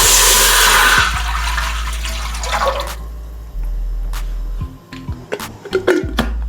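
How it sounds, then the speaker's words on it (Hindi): Two cups of water poured into a pot on a low flame while making sugar syrup for gulab jamun, a loud rushing pour that fades into trickles, splashes and light clinks of the pot. "अब इसमें 2 कप पानी डालेंगे।"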